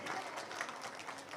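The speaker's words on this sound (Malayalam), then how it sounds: "കൈയടിക്ക്" Audience applause for a 93-year-old man at a senior citizens' program in Chirakkal Panchayath: a steady, dense clapping of many hands that holds evenly across the moment, at moderate distance.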